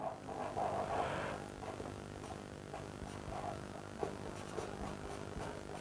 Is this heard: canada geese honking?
no